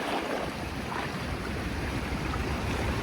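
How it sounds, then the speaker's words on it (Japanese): Ocean waves surge in over the rocky shore at Mitsuishi rocks in Manazuru, Japan, making a steady, dense roar of rushing water and surf that holds at an even loudness throughout, with no voices. "でももう波がこっちに押し寄せてきてるんですよね。"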